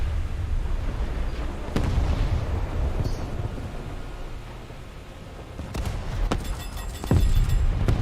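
A torpedo strikes a warship, the Soviet cruiser Frunze, in a naval combat video game: heavy low booms and rumbling blasts, with a sharp impact near the middle and another loud burst toward the end over a continuous battle roar.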